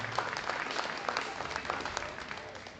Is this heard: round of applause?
yes